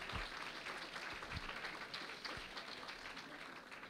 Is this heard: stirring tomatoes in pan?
no